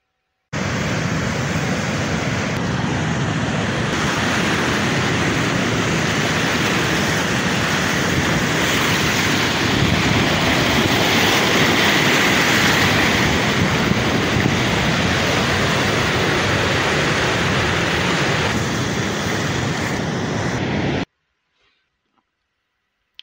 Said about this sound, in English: We are listening to the waves from the Indian Ocean in Gqeberha